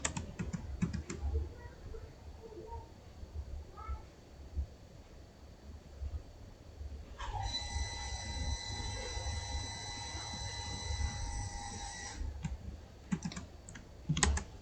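Keystrokes on a computer keyboard while working in the MATLAB command window, with a burst of clicks at the start and end and a press of the enter key, close and fairly quiet over a faint steady hum.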